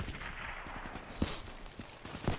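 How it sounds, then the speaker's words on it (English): Distant, fairly faint gunfire aimed at the player in the Call of Duty Black Ops 3 campaign: scattered sharp shots and short bursts at irregular intervals over a low background rumble. "I'm getting shot! They shooting!"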